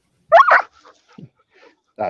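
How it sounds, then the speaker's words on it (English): A dog barks close by with two sharp barks, then lets out a faint whimper and a further bark at the end. "Dog's starting to lose it."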